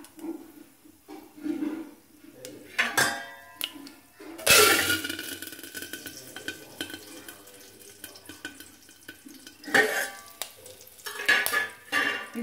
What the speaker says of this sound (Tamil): ஒரு கடாயை வச்சுருக்கேன் இது நல்லா சூடாகட்டும் எண்ணெய் ஊற்றிடலாம் அப்புறம் இதில் கருவேப்பிலை போட்டுடலாம்